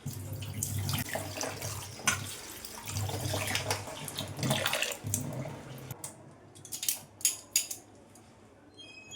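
Tap water runs steadily into a sink as rice and lentils are rinsed, a continuous close splashing stream broken by a few sharper clinks and drips near the end.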